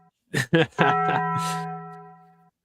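A Taco Bell jingle of three quick bell-like chimes, the last ringing out and fading over about two seconds, loud and close.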